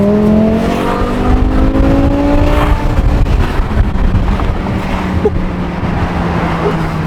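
A BMW M5 E60 pulls hard on a highway, its engine droning loudly with gliding pitch shifts through the gears, under heavy wind and road roar that stays steady and close throughout.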